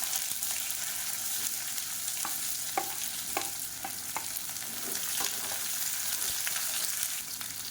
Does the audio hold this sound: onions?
yes